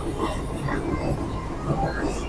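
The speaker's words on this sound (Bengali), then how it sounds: "বন্ধুরা এখন আমাদের ট্রেন ছেড়েই দিয়েছে" A moving passenger train just after departure from the carriage: a steady broadband rumble and rattle of wheels and car body, fairly loud and continuous.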